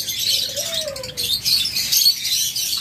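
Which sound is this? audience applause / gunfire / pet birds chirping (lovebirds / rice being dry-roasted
pet birds chirping (lovebirds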